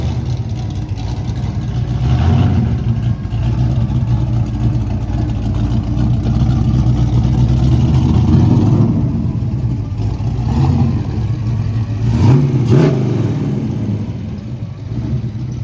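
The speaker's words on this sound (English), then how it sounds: "First test drive with the EFI." A 1979 Ford engine fitted with Holley Sniper 2 EFI drives on a test run, a loud steady low drone with a couple of revving swells partway through, close up and continuous for the whole stretch.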